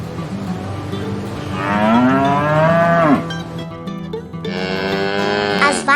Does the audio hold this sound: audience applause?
no